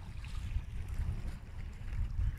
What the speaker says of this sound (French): le doux bruit qu'on entend, c'est les petites vaguelettes